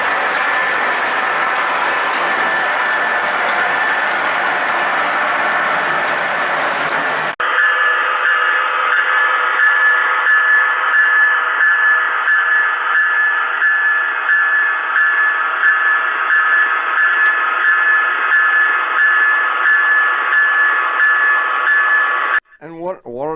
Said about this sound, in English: you can run the older trains, you can run the newer trains, and in our case, you can run them both at the same time